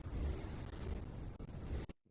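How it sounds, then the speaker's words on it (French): A car approaching in the rain, a low steady rumble with hiss and wash that holds for about two seconds and then cuts off abruptly. "Ah non, c'est une voiture qui arrive"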